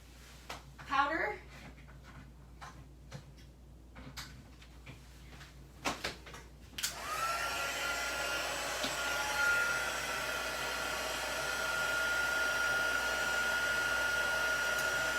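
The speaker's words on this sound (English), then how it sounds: "now I'm gonna take my heat gun and I'm going to heat up our" A handheld heat gun blows a steady, loud whirring stream of hot air over embossing powder on a papercraft project, starting abruptly after some quiet handling clicks and thumps, with a faint tonal whine running on beneath.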